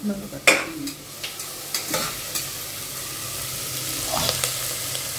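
Onions sizzle in a pan as they are sautéed for a mutton curry. A spoon scrapes and taps now and then, and the steady frying hiss builds near the end.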